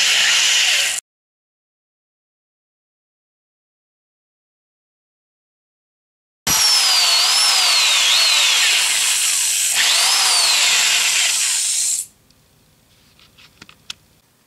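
A loud, steady Delta drill press whine with a shifting pitch as a 7/32 chucking reamer works a hole, starting after a silent gap and cutting off abruptly, followed by faint clicks and handling sounds.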